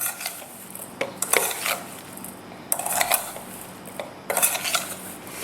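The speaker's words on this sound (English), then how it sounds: "Then we will stir this up really well." Blueberries tossed with sugar in a bowl, a spoon scraping and clinking against the dish in three short bursts of stirring separated by quieter pauses, close and fairly loud.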